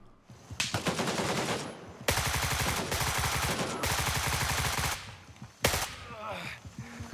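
Rapid automatic gunfire from an AI enemy in the tactical shooter Gray Zone Warfare comes in loud, sustained bursts of rattling shots separated by short pauses.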